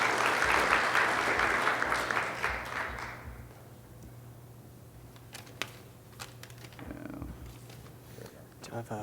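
A conference audience at the FloCon 2015 network-flow meeting claps for about three seconds before the applause dies away, leaving a quieter room with scattered clicks and a person speaking.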